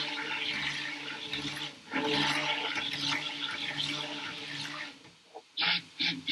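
A big batch of handmade soap mixture is stirred, giving wet sloshing and swirling liquid sounds close by, followed by a few short splashy bursts near the end.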